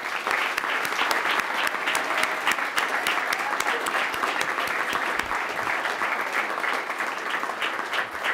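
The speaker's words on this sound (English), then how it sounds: "So I'd like if we could all give Mr. Chapman a round" An audience in a chapel breaks into sustained applause, dense and even clapping from many hands that holds steady throughout with no voices standing out.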